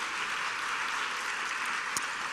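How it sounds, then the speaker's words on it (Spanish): A church congregation applauds during a sermon, a dense, even roar of many hands clapping in a large room, steady for a couple of seconds without voices. "dale un aplauso al Señor"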